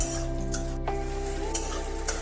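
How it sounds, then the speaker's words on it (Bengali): Chopped onion, garlic, ginger and green chillies fry in a wok, giving a steady, close sizzling hiss with a few light scrapes of stirring and a constant low hum underneath. "পেঁয়াজ রসুন আদা লঙ্কা যেটা আমি কড়াইয়ের মধ্যে দিয়েছিলাম সেটা ভাজা হয়ে গেছে"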